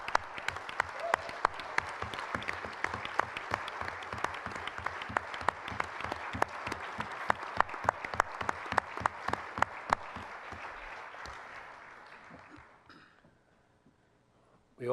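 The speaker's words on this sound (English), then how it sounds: "earn that applause" Sustained applause fills a hall as executive committee and governing board members stand at a humanitarian and development meeting, dense and steady for about twelve seconds before fading away to near silence.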